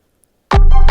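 A GarageBand beat with a heavy sub bass kicks in suddenly after half a second of silence, loud and sustained with dense layered tones through to the end.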